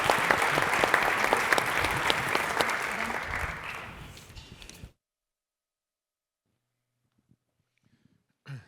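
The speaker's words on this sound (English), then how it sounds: "let's give them a big clap to the amazing speakers" Audience applause for the speakers at a conference session, loud dense clapping that tapers off and ends abruptly, followed by near silence with a faint brief sound at the end.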